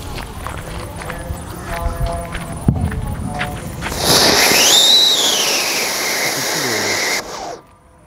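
A Motu Patlu Sivakasi Diwali firecracker goes off outdoors: a loud hissing, whistling burst that rises and falls for about three seconds before cutting out, with background noise beforehand.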